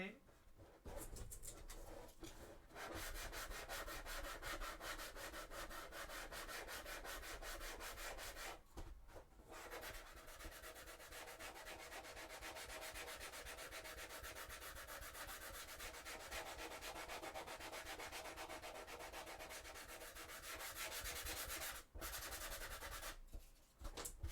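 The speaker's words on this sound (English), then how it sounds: "So see if I can sand it" A Warhammer 40k Sisters of Battle cosplay armor piece being sanded by hand, with close, rapid back-and-forth rasping strokes that run almost without a break and stop only briefly a few times.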